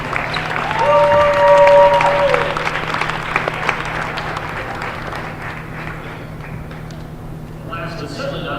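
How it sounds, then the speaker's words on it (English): Crowd applause fills a gym at a high school girls' basketball senior night, a broad steady roar loudest early and easing off, with a brief whistle-like tone near the start and faint talk beneath. "Everyone's giving Hannah a round of applause."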